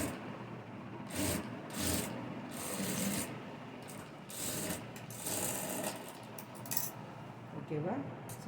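A sewing machine stitches blouse fabric in short bursts of rapid whirring, several runs separated by brief pauses, close but fairly quiet, with light rubbing and handling of cloth between them.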